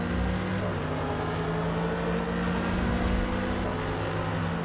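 Mercedes AMG and Dodge Viper race each other at Hockenheim in Forza, engines droning steadily and loudly with a rising and falling whine, no speech.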